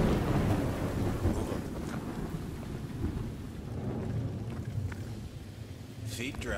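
Steady downpour and low thunder rumble fill a stormy Modern Warfare 2 Remastered scene, the rain hissing continuously at moderate volume with a few brief sharper splashes near the end.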